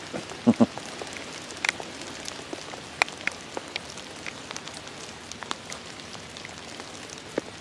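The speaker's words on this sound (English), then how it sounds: "It's like I say, it's probably raining a little bit too hard." Rain falls steadily outdoors, a soft continuous patter with scattered sharper drop hits and a couple of louder close taps near the start, no voices.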